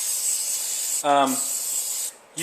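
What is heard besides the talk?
aerosol cleaner spraying on Hornady reloading dies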